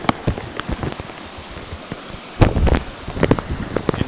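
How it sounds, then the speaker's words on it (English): Heavy rain pours in the California mountains, a dense broadband patter with sharp drop hits and splashes that intensify midway and stay close and loud. "But we have crazy rain."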